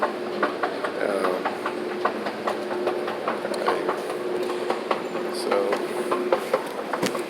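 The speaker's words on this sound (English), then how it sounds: "I'm gonna ride the train for a little bit." Train wheels clacking rhythmically over rail joints with a constant rumbling drone, as heard from inside a moving carriage.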